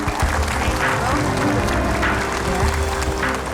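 A studio audience on a talk show bursts into sustained, dense applause, with voices audible under the clapping throughout.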